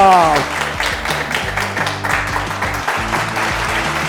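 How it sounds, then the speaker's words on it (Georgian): A studio audience at a Georgian comedy talk show claps as guests Levan Saginashvili and Kosta Janashia are welcomed, with steady applause under loud music and a host's voice over it. "თქვენი მხურვალი აპლოდისმენტები, თხოვთ მივესალმოთ ლევან საგინაშვილი და კოსტა ჯანაშია"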